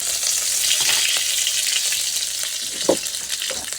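Dried red chillies and curry leaves sizzle and crackle steadily in hot oil in a pan, a close continuous frying hiss with a brief sharper pop near the end.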